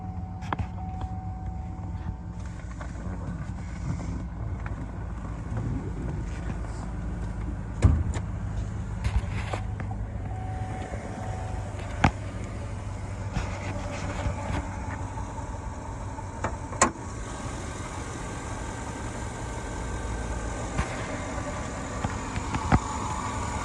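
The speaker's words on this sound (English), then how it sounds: "And engine sounds phenomenal." A 2007 Chevy Avalanche Z71 engine runs steadily at a low, even idle, a constant rumble heard nearby with a few brief clicks and knocks over it.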